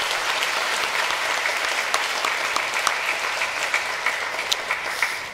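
A church congregation applauds after a sacred drama performance during a Sunday service, a steady, full roomful of clapping sustained throughout and tapering slightly at the end.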